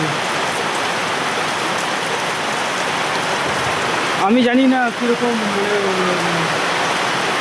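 Heavy rain pours in a dense, steady hiss throughout, and someone speaks briefly partway through.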